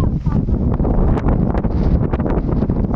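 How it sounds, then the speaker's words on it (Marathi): Strong wind buffets the microphone in loud, rumbling gusts, nearly continuous throughout, with no voices, at a viewpoint in Matheran. "वारा बिरा एकदम मस्त येतो इथं"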